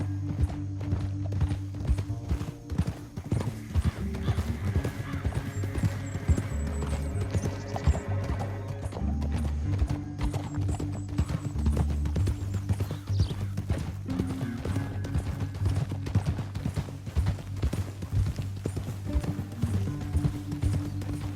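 Hooves clip-clop in a quick, continuous rhythm close by, with a horse's whinny rising over the trotting.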